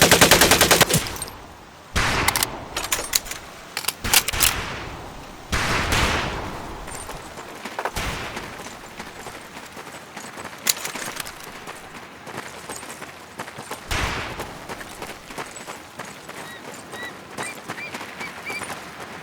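Rapid automatic and single gunfire bursts from the Medal of Honor: Pacific Assault video game rattle out in irregular clusters, loud at first then continuing more sparsely through the scene.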